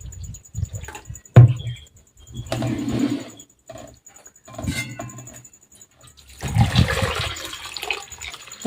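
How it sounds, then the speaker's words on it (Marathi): Fresh water poured over wheat grains for a second rinse in a kitchen, giving several bursts of pouring and sloshing with knocks of a vessel between them, loudest at the end. "दुसरं पाणी टाकलं त्याच्यात"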